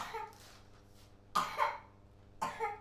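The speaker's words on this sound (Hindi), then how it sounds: "खांसी हो रहा है?" Two sharp coughs ring out a second apart, close and fairly loud, followed by a softer catch of breath in a quiet room.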